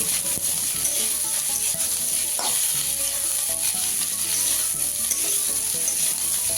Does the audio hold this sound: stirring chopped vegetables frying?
yes